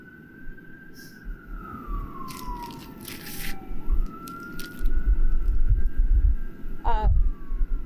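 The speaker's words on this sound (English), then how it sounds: "I'm gonna let this ambulance go by." An ambulance siren wails in long sweeping tones as it passes at moderate distance, over low rumbling traffic and wind noise.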